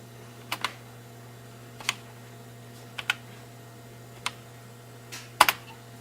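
Someone types on a Packard Bell computer keyboard. A handful of sparse, crisp key clicks, some in quick pairs, sound over a steady electrical hum in a quiet room.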